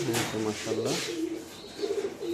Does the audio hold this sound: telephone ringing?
no